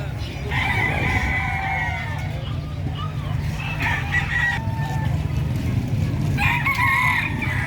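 Chickens and roosters at a busy livestock market crow and cluck loudly, with several overlapping calls and a steady low crowd murmur and voices underneath.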